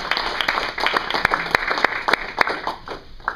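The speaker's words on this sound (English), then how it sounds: "So let's go ahead and give him another round of applause." An audience gives a presenter another round of applause at a personal-development talk. Sharp, uneven claps and individual loud hand smacks sound close by throughout.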